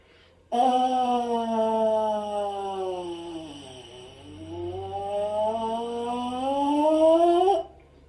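Trombone playing a bungee lip-slur exercise: a single sustained tone starting high, sliding smoothly down low, then bouncing back up to finish high, loud and close, alone and continuous for about seven seconds.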